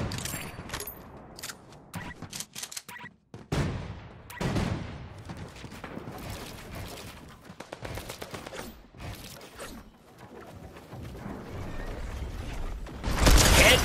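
Gunshots in the video game Fortnite, a string of sharp close shots and clattering mechanical weapon sounds with brief pauses, getting louder toward the end.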